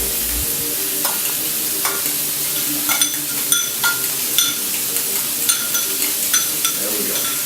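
A fork stirs mayonnaise in a small dish with quick, close scraping and clicking strokes in a steady rhythm over a faint background hiss, and no one speaks.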